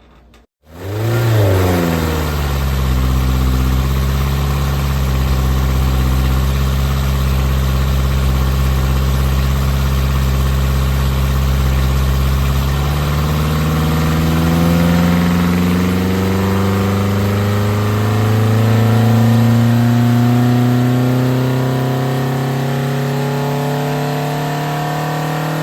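Ford Crossflow engine fitted with Burton roller rockers, revving hard on a test run: a loud, sustained engine roar that climbs and falls through several rising sweeps, steady and close with no voices.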